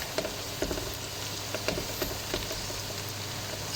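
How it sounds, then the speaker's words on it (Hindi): Chopped onions fry in a pan for mutton aloo keema, a close, steady crackling sizzle with frequent small pops and spatters, unbroken and with no voices. "प्याज का कलर चेंज होने तक, लाइट ब्राउन होने तक अच्छी तरह फ्राई करेंगे।"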